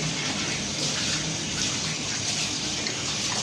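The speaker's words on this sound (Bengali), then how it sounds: "বাইরেটা পুরো ধুয়ে, তারপর ভেতরটা যতটা ভালোভাবে পারা যাবে ততটা ভালোভাবেই ঘেটে ধুয়ে" A metal pot being washed by hand, with water steadily gushing and splashing over it in a continuous close, even stream, no voices.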